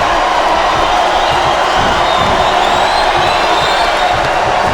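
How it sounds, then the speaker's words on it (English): A capacity wrestling arena crowd at an Undertaker vs Mick Foley Buried Alive match roars and cheers loudly and continuously. Whoops and shouts rise through the dense wash of noise. "This capacity crowd is making their opinions known."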